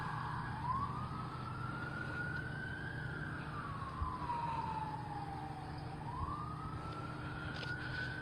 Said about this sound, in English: Those sirens are the Winter Springs Police Department also paying